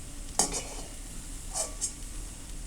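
Brinjal fries in hot oil with a soft sizzle, broken by two brief metallic clinks as the pieces are stirred in the pan.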